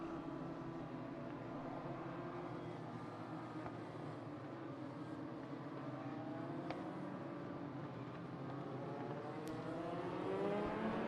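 A big field of Legends race cars circles the asphalt Las Vegas Bullring at the 2022 Legends Asphalt Nationals, engines droning steadily at a distance, their pitches rising and falling together in a faint, continuous roar.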